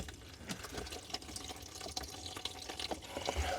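Old fluid trickling out of an abandoned Lotus Excel into a container, a soft continuous watery pour with faint drips, quiet and close, with no talking.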